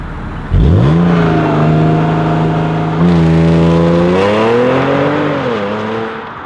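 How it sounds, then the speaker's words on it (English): A 2013 Audi S5 starts with a sudden loud crank and roar, then settles into a steady rumbling engine note. Revs rise and shift as it pulls away and drives off, loud and close throughout. "let's start her up and let's go for a drive"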